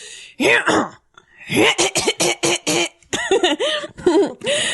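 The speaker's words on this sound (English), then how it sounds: "Been having to do a lot of clearing my throat" A person repeatedly clears their throat, close and loud, in a series of short, rough, voiced bursts with groaning, cough-like edges and brief pauses between them.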